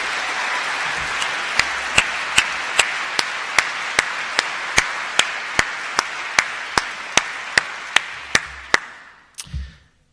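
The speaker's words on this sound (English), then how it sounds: "Can we give them a round of applause" Town hall audience applauding veterans with sustained crowd clapping, accompanied by a series of regular loud sharp beats like a drum or stomp, fading out near the end.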